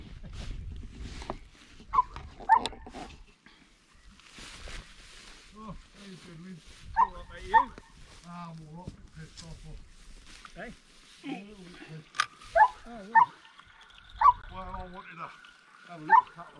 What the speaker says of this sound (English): We've had a motorbike turn up now, so the dogs have now got to vent their feelings at the motorbike.